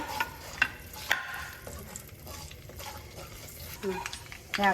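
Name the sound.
mustard seeds and fenugreek spluttering in hot oil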